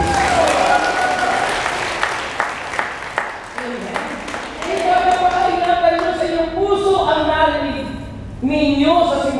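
A church congregation at a Wednesday group gathering in Hong Kong breaks into a burst of clapping that fades within a few seconds, while a voice keeps talking and singing-like speech carries on over the room.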